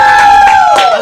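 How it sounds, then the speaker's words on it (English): A live audience at a comedic matchmaking show cheers and whoops loudly, with excited shouts and a sustained high cry over scattered clapping, close and energetic for a brief moment. "Now let's give a round of applause for Nifaka Begum."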